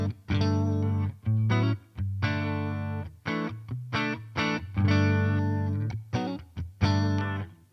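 A clean electric guitar tone with a slight touch of reverb, playing a sequence of chords and single notes in short phrases with brief gaps, clear and upfront with no talking.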